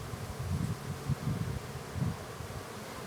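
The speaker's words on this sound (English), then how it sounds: "all those bees that are over there on that wax, will they go back by themselves?" A swarm of honeybees at an exposed hive built on wax comb, a low, steady buzzing drone that swells in soft pulses and carries on alone without voices.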